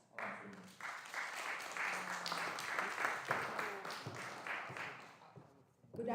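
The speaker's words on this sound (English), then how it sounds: "let's give them a big round of applause" Audience applause for the organizing team at a men's mental health and wellness event, a steady patter of hand claps with scattered voices and cheers mixed in, fading briefly near the end before a new burst starts.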